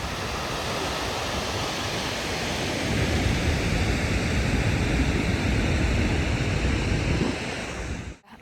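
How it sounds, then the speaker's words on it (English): Goðafoss waterfall in North Iceland pours with a steady, dense roar of rushing water, close and continuous, swelling slightly partway through before cutting off abruptly at the end. "I hope you enjoy the waterfall"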